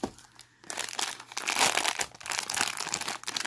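A plastic wrapper of an Aladdin mystery mini blind bag crinkles close up, with a brief quiet pause and then busy, loud rustling crackles.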